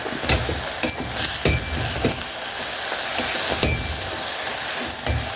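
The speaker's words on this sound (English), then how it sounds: "And then we stir again" Sukuma wiki and goat meat cook in a single pot while being stirred, giving a steady sizzle broken by several sharp scrapes and knocks of the spoon, close by.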